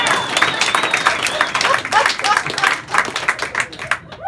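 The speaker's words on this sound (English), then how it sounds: "Yeah, applaud that!" Comedy club crowd at the DC Improv applauding a stand-up comic, close, lively clapping with some cheering and scattered voices, swelling and dipping before it fades.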